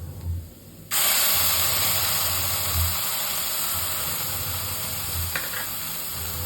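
Roasted ground masala paste hits browned onions in a hot pan and erupts into a loud, broad sizzle that starts suddenly and holds steady, with a brief utensil scrape near the end, for a restaurant-style veg Kolhapuri.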